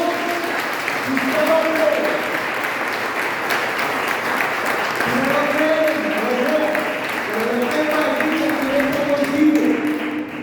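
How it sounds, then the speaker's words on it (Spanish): Strong, continuous applause from a church congregation during a Spanish-language sermon, with voices calling and singing out over the clapping as it carries on. "Dale un fuerte aplauso al Señor"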